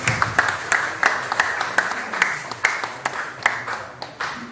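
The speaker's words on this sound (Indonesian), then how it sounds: "Ya, kita berikan aplaus." Audience applause at a ceremony handing over a drinking-water aid installation to a foundation, with sharp claps in steady bursts through a room's general murmur.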